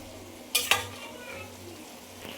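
Goat meat frying with spice powder in a pan, a steady low sizzle broken by two sharp clanks of a utensil stirring against the metal, then a faint scrape near the end.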